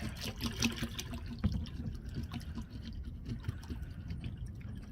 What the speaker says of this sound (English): now I'm gonna pour a gallon of bleach in here